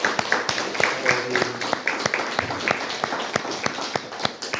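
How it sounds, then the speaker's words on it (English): Scattered clapping from a small group at a neighborhood community meeting on wildfire, for a panel, individual claps audible in an uneven rhythm, with some faint background murmur. "if I could get a round of applause for our panel"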